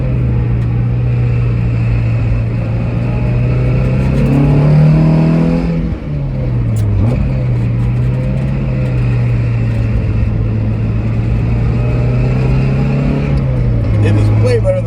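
A Mazda Miata NB with an IRP shifter drives in fourth gear, its engine a loud, steady droning hum close inside the cabin that rises and dips slightly, while faint shifter rattle sits underneath and a person talks over it.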